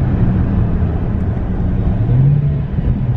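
A BMW with the N54 engine and a suspected fuel issue, in first gear on a back road, as a loud steady engine drone from inside the car with a brief rising pitch as it accelerates.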